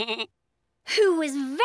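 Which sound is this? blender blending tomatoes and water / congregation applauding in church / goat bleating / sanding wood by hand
goat bleating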